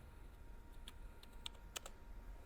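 Faint, quick keystrokes on a computer keyboard while someone types a sentence into Notepad on Windows 7, a brief run of light clicks over a steady background hiss.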